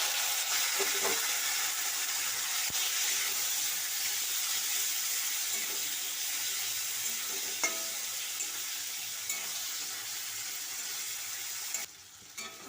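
Grated ginger and chopped tomato fry in oil with cumin seeds for a vegetarian khichuri, giving a steady, moderate sizzle with an occasional faint stir or tap, ending in a brief clatter.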